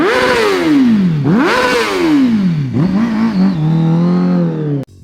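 Honda CBR1000RR-R Fireblade sportbike with a 999cc inline-four, revved hard several times in rising and falling sweeps, loud and close, before cutting off abruptly near the end.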